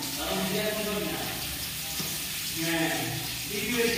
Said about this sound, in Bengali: একটু তেল দিয়ে দেবো, অল্প তেলে রান্না করে অসুবিধা হবে না